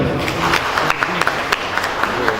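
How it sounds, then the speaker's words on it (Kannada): Audience at a stage program of Hindi film songs claps steadily, a dense, fairly loud wash of applause throughout. "ನಿಮ್ಮ ಚಪ್ಪಾಳೆಗಳು"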